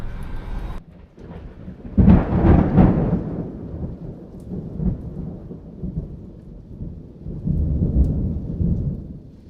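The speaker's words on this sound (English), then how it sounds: "So it looks like the storm is rolling towards us right now" Approaching thunderstorm near an off-grid cabin: a loud rolling thunderclap builds and rumbles, with further low rumbles and steady rain in the background.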